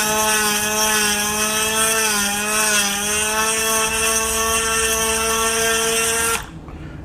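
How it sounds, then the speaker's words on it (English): A Dremel spins at high speed with a drill bit held in its chuck, giving a steady whine as it lightly grinds, then cuts off abruptly near the end. "relying on the speed of the Dremel to do the tiniest bit of grinding in there with the edge of the drill bit"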